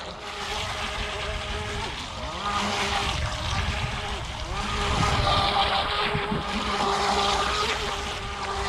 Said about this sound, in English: Oh, that skimming is awesome.